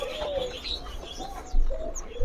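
A jingjing batu bird kept for sale calls in short clear whistled notes and chirps, a few separated phrases close to the microphone over faint background noise, without any talking.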